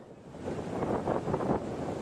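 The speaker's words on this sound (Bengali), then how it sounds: "সেন্ট মার্টিনে তীব্র বাতাস ও ভারী বৃষ্টি অব্যাহত রয়েছে।" Strong wind buffets the microphone while rough sea surges and crashes at Saint Martin's Island, a continuous roaring rush with swelling gusts and no voices.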